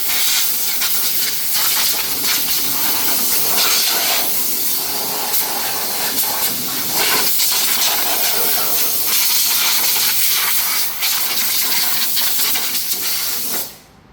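Compressed air hisses steadily for about fourteen seconds while dust is blown off a car after an oil, brake fluid and power steering fluid service, loud and continuous before cutting off abruptly at the end.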